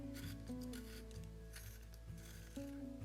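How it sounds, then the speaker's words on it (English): A water-soluble crayon turns gently in the larger hole of a double-barrel sharpener, giving soft scraping rasps in a few short bursts over steady background music. "actually I use a double barrel sharpener"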